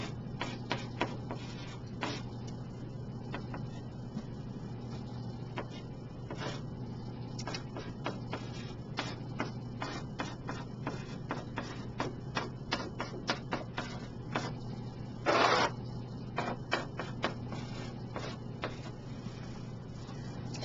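Pen or pencil tapping and scratching across paper while math is written out by hand, a steady run of small quiet ticks over a constant low hum, with one brief louder rustle near the end.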